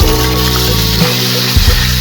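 Chopped onions hit hot oil spiced with black pepper for dhaba-style paneer, setting off a loud, steady, close sizzle that hisses continuously with a faint low hum underneath.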